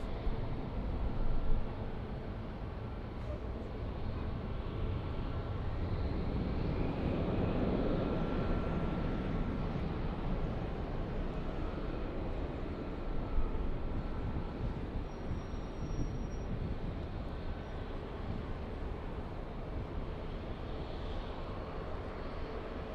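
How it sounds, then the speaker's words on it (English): A Frontier airliner takes off at LAX, its jet engines roaring in a steady, loud rumble that swells midway and then holds as the plane climbs, with wind noise on the microphone. "Next takeoff is Frontier. This is Buck. Buck taking off."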